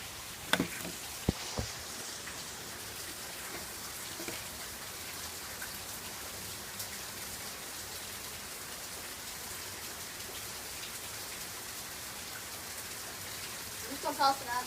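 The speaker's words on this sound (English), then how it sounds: "See how bad it's raining? It's like terrible." Heavy rain pours down steadily outdoors, a dense even hiss throughout, with a few sharp knocks near the start and a brief burst of louder noise at the end.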